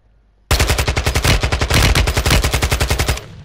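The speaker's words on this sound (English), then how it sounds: "Shots." A rapid automatic burst of gunfire in Call of Duty: Modern Warfare II, about two dozen sharp, loud shots in a fast even rhythm lasting nearly three seconds before stopping abruptly.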